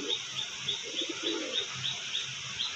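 A pigeon coos close by in a soft, repeated throaty rhythm, with faint chirps and light background noise around it.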